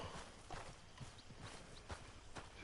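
Horse hooves clip-clop in a steady walking rhythm in Red Dead Redemption 2, faint and fairly distant against a low background hiss.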